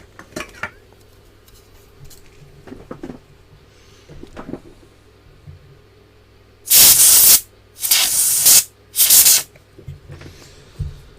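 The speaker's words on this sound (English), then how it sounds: "Then we'll give it a squirt of switch cleaner" Three sharp, loud hissing spray bursts of switch cleaner are squirted into a calculator socket on an electronics kit build, following a stretch of quiet clicks and small handling noises.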